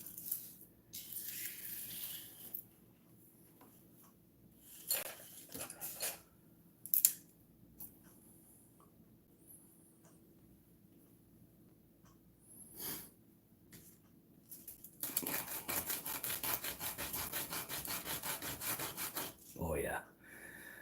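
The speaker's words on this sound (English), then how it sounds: "That's some nice 80 grit. That should sand it down pretty quick." Close, rhythmic back-and-forth scraping of coarse 80-grit sandpaper on a plastic model part from a Revell Visible V8 engine kit, starting with scattered short strokes and building into several seconds of steady rapid sanding over a faint low hum.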